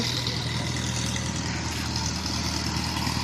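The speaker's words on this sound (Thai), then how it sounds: "รถไถอยู่รถไถ" A tractor engine idles nearby with a steady, low rumbling drone that holds constant throughout, with no variation in speed.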